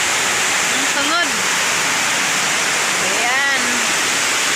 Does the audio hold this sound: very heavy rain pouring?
yes